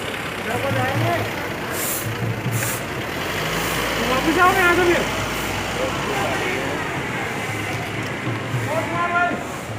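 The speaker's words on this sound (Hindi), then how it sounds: "देखिए पुलिस की गाड़ी आगे लगते हुए" A police vehicle rolls past during the final royal bath procession of the 2021 Haridwar Kumbh, its engine rumble steady and fairly close amid continuous crowd noise and voices.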